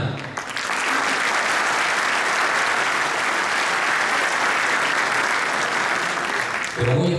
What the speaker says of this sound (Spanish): aquí el aplauso tiene que ser bien más fuerte